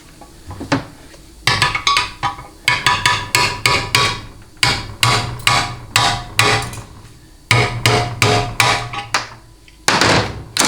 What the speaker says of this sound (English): Best way to get at these is to just tap them out with a hammer and screwdriver.